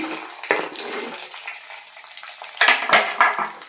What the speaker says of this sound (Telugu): ఉల్లిపాయలు కూడా బాగా ఫ్రై చేసుకోవాలి